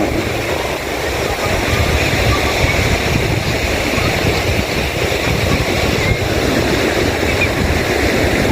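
Large ocean waves at Gondariah Beach in Pariaman, West Sumatra, crash and roar in a steady, loud wash of surf during an afternoon high tide, with constant rumbling and no pauses.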